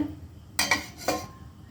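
A metal lid goes onto a cooking pot holding a steamed coconut custard dessert, two or three quick close clinks and clatters in a row, then a brief ringing fade in an otherwise quiet kitchen.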